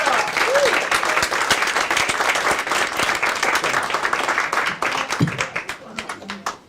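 A crowd at a comedy club applauds a comedian walking on, with dense, steady clapping that tapers off toward the end, loud and close.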